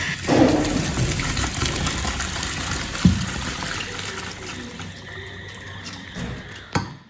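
Cooked pasta being drained, its hot cooking water splashing and trickling steadily into a sink, with a louder gush near the start and another splash around midway.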